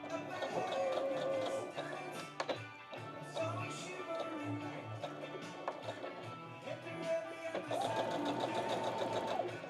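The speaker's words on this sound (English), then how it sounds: "I was here sewing, thinking I'm sewing on my zipper, and I wasn't sewing anything at all" A sewing machine running while sewing on a zipper, a steady close whir with occasional taps and pauses and a faint voice underneath.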